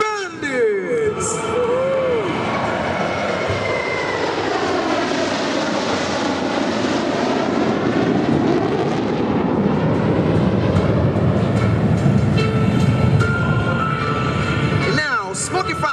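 Aerobatic jets of the Smoky Bandits team fly overhead at the Singapore Air Show, a loud, continuous roar rising and sweeping past for the whole stretch, with a crowd and commentary audible beneath.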